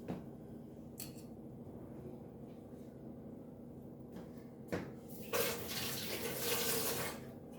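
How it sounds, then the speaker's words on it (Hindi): A kitchen tap runs steadily while a knife is rinsed under it, soft and close, with brief clinks and a louder gush of water near the end; no talk. "चक्कू धो के रख दूंगी।"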